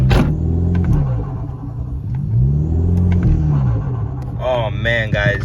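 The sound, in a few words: car engine revving with a DIY cold air intake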